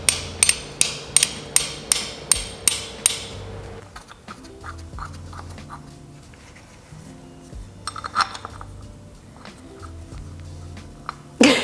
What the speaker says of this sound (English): carefully tap it in place using a light hammer